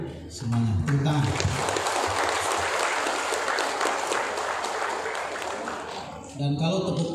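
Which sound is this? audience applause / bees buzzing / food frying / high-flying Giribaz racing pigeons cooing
audience applause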